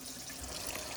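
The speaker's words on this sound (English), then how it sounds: "And I'm going to run some water." Water runs steadily from a tap, fed by a well pump powered by a Predator 9000 generator, a soft continuous broadband hiss with no voices.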